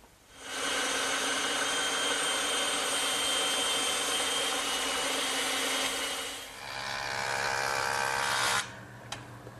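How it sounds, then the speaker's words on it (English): A bandsaw cuts tapered cleats from straight wooden stock, a steady loud whining roar of blade through wood lasting several seconds, dipping briefly mid-cut before rising again and dropping off abruptly as the cut ends. "and I'll cut them over on the bandsaw."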